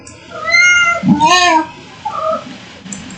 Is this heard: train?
no